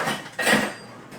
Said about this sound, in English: I'm going to add in my onion